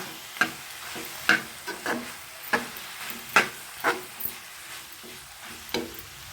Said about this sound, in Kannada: ಅವಲಕ್ಕಿ ಅದನ್ನು ಹಾಕ್ಕೊಳ್ತಾ ಇದ್ದೀನಿ ಹಾಕ್ಕೊಂಡು ಇದ್ರ ಜೊತೆ ಚೆನ್ನಾಗಿ ಮಿಕ್ಸ್ ಮಾಡ್ಕೊಳ್ಳಿ